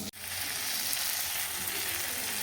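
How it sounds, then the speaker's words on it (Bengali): Capsicum, onion and tomato frying in a pan for Maggi noodles give off a close, steady sizzle that crackles evenly without pause, with no voices. "ভেতরে ক্যাপসিকাম একটা দিয়েছি, আর পেঁয়াজ একটা দিয়েছি, আর একটা ছোটো দেখে টমেটো দিয়েছি, দিয়ে ভালো করে ভেজে নিচ্ছি"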